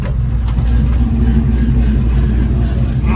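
A 502 big-block V8 in a 1971 Chevelle idles with a deep, steady rumble and heavy low-end throb, loud and close, continuously throughout.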